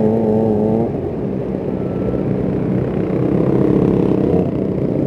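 A Kawasaki ZX25R motorcycle engine roars close by, a loud, steady, high-revving drone that holds its pitch with a slight shift partway through.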